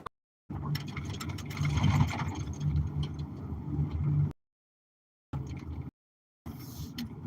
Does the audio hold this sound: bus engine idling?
yes